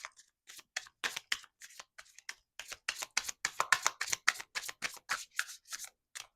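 Playing cards shuffled by hand for a tarot-style reading, a rapid run of crisp riffling bursts and snaps repeating steadily for several seconds, close and clear with no talking.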